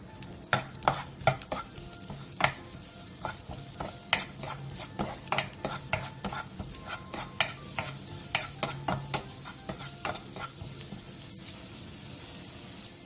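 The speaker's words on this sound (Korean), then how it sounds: "팬에 참기름 1스푼과 대파 1줌 반을 넣고 센 불에서 골고루 어우러질" Green onion stir-fried in sesame oil over high heat in a pan gives a steady sizzle broken by frequent sharp scrapes and clacks of stirring, close and alone without voices.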